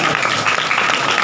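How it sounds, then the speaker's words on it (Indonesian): Audience applause at a religious gathering, a dense steady wash of many hands clapping, loud and close, filling the brief moment without pause. "Ini kita kasih aplaus kepada tim apa namanya itu."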